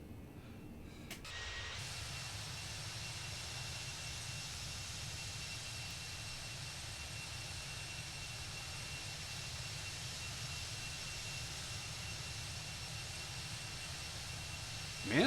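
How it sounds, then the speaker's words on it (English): Jet engines of an Airbus A319 in a flight simulator produce a steady, faint broadband roar with a constant hum, running unchanged throughout after a brief click near the start. "Man, there's a lot of hot air coming out of those engines."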